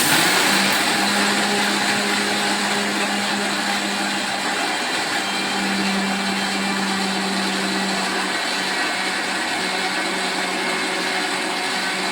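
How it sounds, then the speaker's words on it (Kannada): A kitchen mixer grinder runs continuously, powdering nutmeg and roasted gram with a steady, loud whirring motor drone that holds an even pitch throughout. "ಈಗ ಇದಿಷ್ಟನ್ನು ಮಿಕ್ಸಿಗೆ ಹಾಕ್ಬೇಕ್ರಿ. ಇದಷ್ಟು ಪೌಡ್ರ್ ಮಾಡ್ಕೊತೀನಿ ರೀ."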